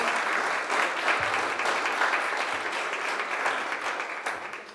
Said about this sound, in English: Let's give Tyrone a round of applause.